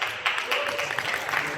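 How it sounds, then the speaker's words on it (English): An audience at the SuperAI 2024 conference at Marina Bay Sands, Singapore, applauds a panelist, a brief, dense burst of clapping from a large crowd in a hall. "A round of applause for Jen"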